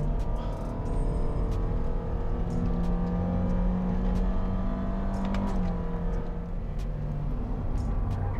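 A Toyota Vios GR-S with a 1.5-litre engine and upgraded suspension revs up after a downshift on a winding mountain road, its engine note steady and droning, then rising and falling, heard from inside the car with no talking.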